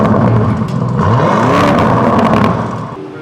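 Lamborghini Urus in Sport mode revving in place, the exhaust swelling into one loud, drawn-out rev with a sharper rasp, then dropping back toward idle, and no voices.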